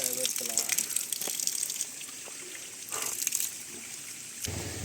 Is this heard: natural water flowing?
yes